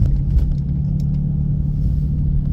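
A BMW M4 F82 with an S55 engine and ADS Performance induction kit rumbles while driving, a deep steady low drone with slight surges heard from inside the cabin.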